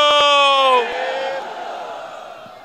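A packed political rally crowd in Rahim Yar Khan: a loud amplified voice bellows a slogan call, then dissolves into a broad, sustained roar of the crowd.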